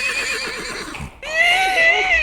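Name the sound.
horse neighing and hooves, radio show sound effect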